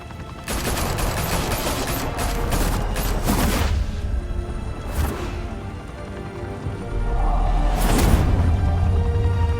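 Gunfire in the Batman - The Telltale Series video game: dense, sustained fusillade of rapid shots with several sharp louder bursts standing out against a steady noisy background.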